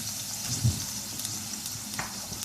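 Half a kilo of bone-in beef hits browning onions in a pot for beetroot meat curry, giving a steady, moderate sizzle and crackle of frying with no talk over it.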